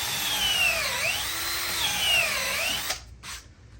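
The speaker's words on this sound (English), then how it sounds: "And then just drill out the center." A power drill whines up and down in pitch as it bores out the center of a wooden bowl blank, then cuts off abruptly near the end.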